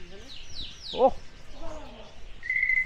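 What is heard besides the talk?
quail calling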